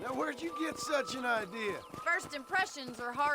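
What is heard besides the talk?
No everyday noise stands out behind the speech.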